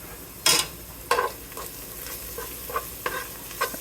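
Vegetables frying in a pot for a chickpea quinoa veggie soup, a spoon stirring and scraping in a few sharp strokes over a soft continuous sizzle, close and unaccompanied by speech.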